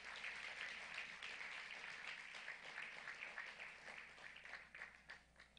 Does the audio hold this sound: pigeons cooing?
no